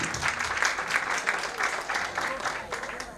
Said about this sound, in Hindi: जोरदार तालियां अपन अपने बच्चों को प्रोत्साहित करेंगे